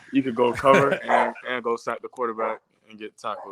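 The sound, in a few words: dog barking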